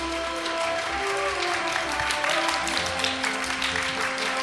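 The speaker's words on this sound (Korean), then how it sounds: "여러분, 이종욱 선수를 큰 박수로 환영해 주시길 바랍니다." Studio audience applauding steadily as baseball player Lee Jong-wook is welcomed onstage at a 2013 defensive awards ceremony; a dense, continuous wash of clapping fills the hall, with a low hum underneath and no voices.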